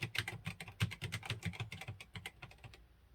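Brisk typing on an MSX computer keyboard, a rapid run of close, crisp key clicks that gradually thins out and stops, with no talk over it.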